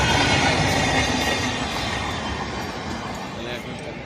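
Train rumbling past a railway level crossing at Jhalda, a loud, continuous clattering roll of wheels on rails that slowly fades, with people talking nearby.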